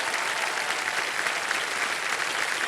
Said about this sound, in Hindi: तालियों के साथ इनका स्वागत किया जाए।